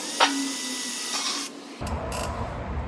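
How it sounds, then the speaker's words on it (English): A drill bores holes in a car fender bracket during a car build. A close, buzzing whine runs for about a second and a half, then gives way to quieter rough grinding and scraping. "it is time to drill holes."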